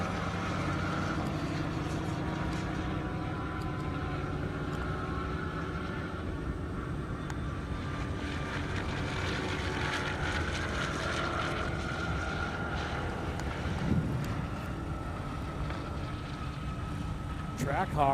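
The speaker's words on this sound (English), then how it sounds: "Trackhawk with that huge launch." A Jeep Trackhawk launches at an airstrip drag race event, a steady broad engine roar building under continuous announcer commentary, with other vehicle noise mixed in.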